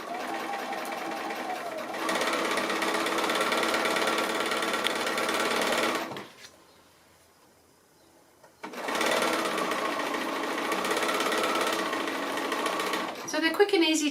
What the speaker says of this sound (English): I'm just going to go to the sewing machine now, and I can chain piece these through